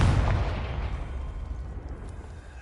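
A Confringo blasting spell explodes in the video game Hogwarts Legacy, a loud booming burst that rolls into a long rumbling decay lasting a couple of seconds, with no voices over it.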